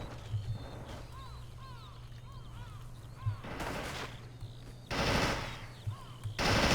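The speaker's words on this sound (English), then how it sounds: "He's got the heavy machine gun just sitting out there. And my guy is shooting at him." Heavy machine gun fire in the video game Men of War: Assault Squad 2 comes in three loud, rattling bursts of rapid shots over a quieter battlefield background, with a few thin chirping tones early on.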